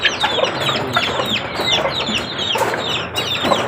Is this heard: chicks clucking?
yes